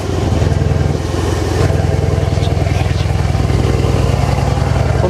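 A 660 hp Mercedes-AMG G-Class idles nearby, its engine holding a loud, steady low rumble with an even pulse and light mechanical clatter throughout.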